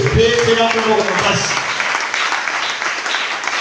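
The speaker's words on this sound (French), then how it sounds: "Acclame très fort pour le Seigneur." A church congregation at an evening worship service claps and cheers loudly, a dense, sustained roar of applause that swells after a brief spoken opening and continues to the end.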